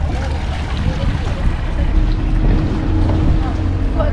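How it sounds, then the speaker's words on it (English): A tour boat engine drones low and steady under wind buffeting the microphone, with voices faintly mixed in, crossing the Santorini caldera toward the volcano. "Our boat has arrived to take us over to the volcano."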